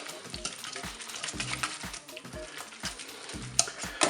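Ham and grated gruyère mixed in a Cookeo pot, with steady sizzling under repeated stirring strokes and scrapes against the pot, close and fairly loud, with a brighter clatter near the end.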